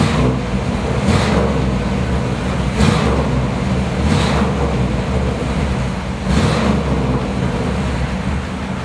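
A 1957 Ford Thunderbird convertible drives along with a steady, deep engine and road rumble. Several brief whooshing surges rise and fall over the drone, and no one speaks.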